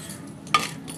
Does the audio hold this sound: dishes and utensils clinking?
yes